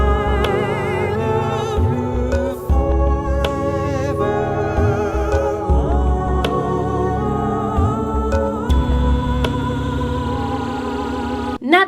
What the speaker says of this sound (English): The first voice banks, Leon and Lola, were represented as this, and they sound like this.